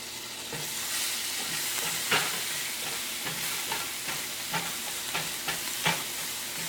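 Butter sizzles and fries steadily in a hot pan with garlic, a close, constant hiss broken by small pops and the occasional scrape of stirring, with no talking.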